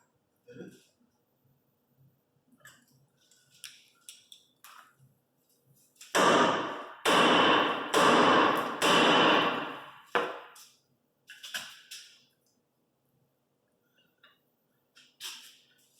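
Hammering on a car ball joint with the nut still threaded on, four loud, close metallic strikes in quick succession with a couple of lighter taps after, amid quiet workshop clatter.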